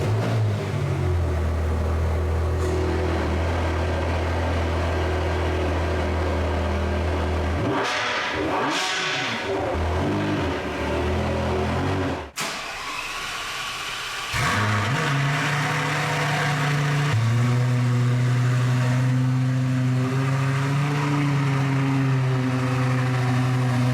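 A 2004 Lamborghini Gallardo with a 6-speed manual idles low and steady, stops briefly, then restarts and settles into a throaty idle with light revs as it is moved out of its spot.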